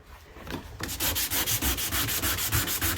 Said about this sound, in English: So I've just been sanding these right away with 180.